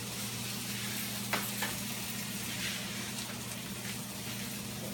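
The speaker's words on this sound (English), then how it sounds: "But now the spinach is cooking down." Spinach and mushroom pasta sizzles steadily in a pan, a soft continuous frying hiss with a low hum beneath and an occasional faint clink.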